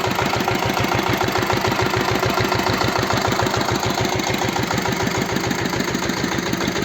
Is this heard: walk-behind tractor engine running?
yes